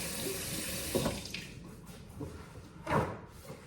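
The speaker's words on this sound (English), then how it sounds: "Wash my hands." Hands washed under a running kitchen tap while making cookies, a steady splashing water stream close by with a couple of louder sloshes as the hands move through it.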